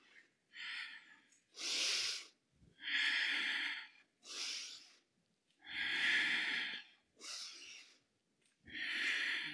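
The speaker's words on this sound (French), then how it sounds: "expire, inspire, expire, inspire, expire, inspire, expire, on accélère un peu." Rhythmic breathing exercise with forceful inhales and exhales that quicken over time, seven or eight loud, close breath bursts alternating in a steady pattern with brief pauses between them.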